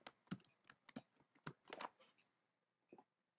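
Keys tapped on a computer keyboard while setting up a Windows XP reinstall, a quick run of close, crisp clicks in the first two seconds, then a pause and a couple of final taps.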